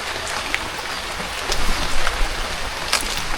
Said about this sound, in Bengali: টিপটিপ করে অনেক বৃষ্টি পড়তেছে